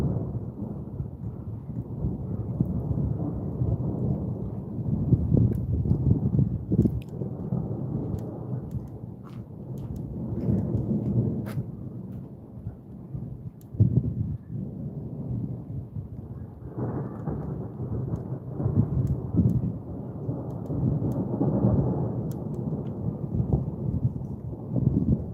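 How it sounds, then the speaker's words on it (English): Thunder rolls and rumbles repeatedly over the Lickey Hills in North Worcestershire as rain falls, the heavy low growls swelling and fading in long waves close by. "the rain's starting to come down gently"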